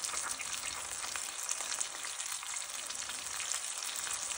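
Garlic paste and onion fry in a pan for a bottle gourd and shrimp curry, giving a steady, dense sizzle that holds even from start to finish with no voices.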